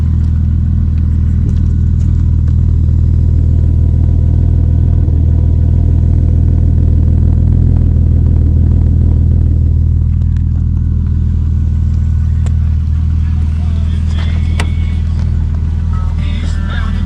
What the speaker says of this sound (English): Let's have a listen to that exhaust.